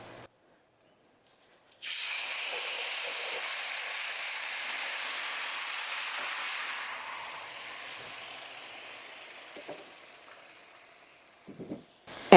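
Broth poured slowly into a very hot cast iron skillet sizzles at once into a loud, steady hiss that fades gradually over several seconds, followed by a few faint kitchen clicks near the end.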